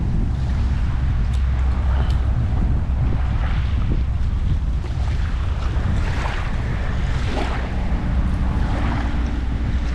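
Steady, loud wind roars across a Florida beach on the Banana River during shelling, blending with the wash of surf in a continuous rumble, with no talking.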